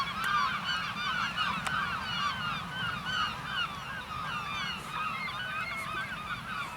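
A dense flock of seagulls by the sea honks and squawks continuously, many overlapping calls layered over a low rumbling background, before taking off all at once.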